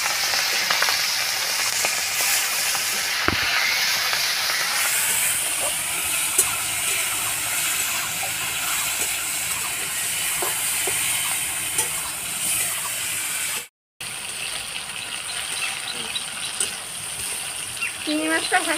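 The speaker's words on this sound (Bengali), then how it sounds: "তেলে ভেজে নিচ্ছি।" Turmeric and salt coated prawns fry in oil with a steady loud sizzling hiss and occasional spatters, a brief dropout near the end before the frying resumes.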